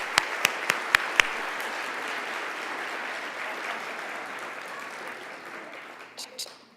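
An audience at the 2017 San Antonio Business Hall of Fame breaks into a round of applause: a few sharp single claps, then dense, sustained clapping that fades slightly toward the end.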